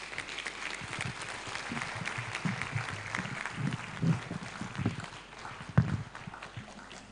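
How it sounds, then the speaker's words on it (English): Audience applause at an academic colloquium on housing legislation as a guest of honor walks up to speak, a soft, fairly distant wash of clapping with a few louder knocks and thumps, like footsteps. "we would want to give him a round of applause as he comes"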